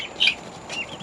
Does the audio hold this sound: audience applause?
no